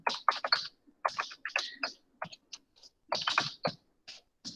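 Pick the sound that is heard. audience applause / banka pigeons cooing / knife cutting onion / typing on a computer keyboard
typing on a computer keyboard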